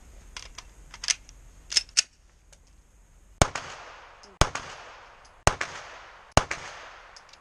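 Several sharp, loud 9 mm pistol shots, four evenly spaced cracks each with a short echoing tail, preceded by softer clicks and handling noises.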